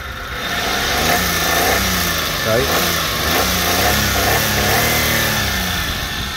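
A Daewoo Matiz with a 0.8-litre three-cylinder engine idles smoothly and then revs up and down in short swells, loud and close, while someone talks over it.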